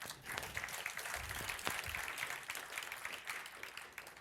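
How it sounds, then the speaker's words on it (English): Participants in an online class applaud together, a steady wash of many hands clapping that holds at an even level for the whole stretch, with no one speaking over it. "All right, give yourselves a round of applause."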